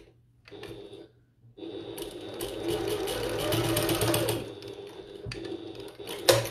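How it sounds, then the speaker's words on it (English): A sewing machine bastes along the edge of a tote bag, starting with brief bursts and then running in a steady mechanical whir for several seconds before stopping, with a few clicks after. "just baste along the edge there just to keep it together"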